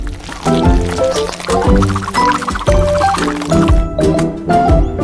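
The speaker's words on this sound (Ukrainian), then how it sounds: "Так, заливаємо. Перемішуємо." Liquid poured into a bowl during a cooking challenge, with loud, close sloshing and splashing mixed with clinks and bright kitchen noises, under background music.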